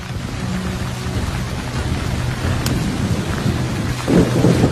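Thunder rumbles low and continuous over steady rain in a jungle, with a sharp crack near the middle and a heavier burst of rain toward the end.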